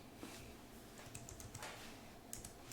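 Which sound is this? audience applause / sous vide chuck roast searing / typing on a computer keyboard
typing on a computer keyboard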